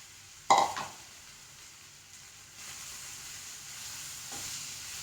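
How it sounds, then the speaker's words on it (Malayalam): Nendran plantains sautéing in ghee in a pan, starting with a sharp clank of utensil on metal followed by a soft, steady sizzle that grows slightly louder toward the end. "ഈ നേന്ത്രപ്പഴം ഉണ്ടല്ലോ നമുക്ക് ഒന്നും കൂടെ വഴറ്റിയെടുക്കാം"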